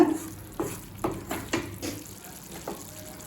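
Thick Schezwan sauce being stirred in a pan as it cooks down, with soft scraping strokes at an irregular rhythm over a faint background sizzle, close and quiet.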